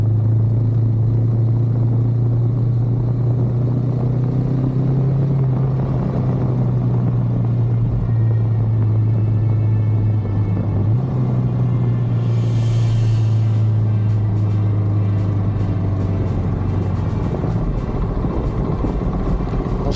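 Off-road vehicle driving over a loose gravel track, a steady loud engine drone with a low rumbling hum and continuous crunching road noise throughout, with no talking.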